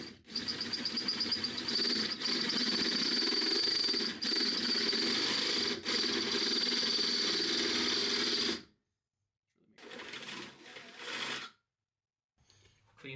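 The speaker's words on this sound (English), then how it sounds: "you're literally just going to take the drill bit and drill this out larger." A drill with a 25/64 bit bores out a hole in the trunk metal of a Toyota GR86, a loud, steady whine running about eight seconds, stopping, then two shorter bursts.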